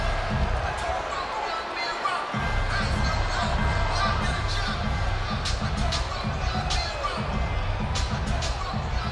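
A large crowd at a boxing weigh-in for a major championship fight gives off a continuous roar of cheering and babble, with a voice talking over it throughout.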